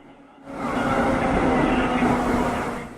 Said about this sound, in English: I think we'll catch a bullet train.